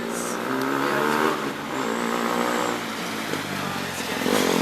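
A DFR 2012 electric race car coasts off the throttle: a rough, whining drivetrain hum with uneven, messy tones, fairly distant and steady, with background noise and no clear talk.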